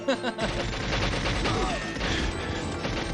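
Dense gunfire from two weapons fired at once in the 1997 shooter GoldenEye 007, a loud continuous stream of shots and crashing impacts with no gaps, busy game sound throughout.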